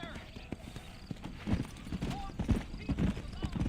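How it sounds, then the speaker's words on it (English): Rhythmic clip-clop of horse hooves trotting in the video game Red Dead Redemption 2, fairly quiet, with a brief whinny-like tone and an ongoing low background hum. "Get on my horse."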